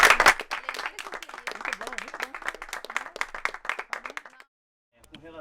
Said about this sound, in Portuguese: salve de palmas, velho